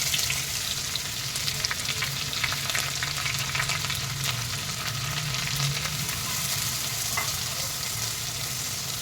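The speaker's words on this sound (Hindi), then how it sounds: "अब इसमें मैं ये प्याज डाल देती हूँ।" Onions frying in oil with cumin in a pan, a loud, dense, continuous sizzle and crackle close up with light stirring.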